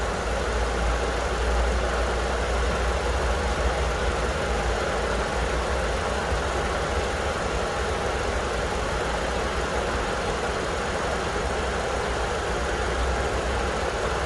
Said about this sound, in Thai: เครื่องยนต์เดินเบาเสียงเพราะมากครับ